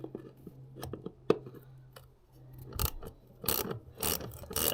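A ratchet loosening a Torx screw on a 2018 Triumph Scrambler 900 motorcycle during a home service, short bursts of quick ratcheting clicks between quieter pauses, close by.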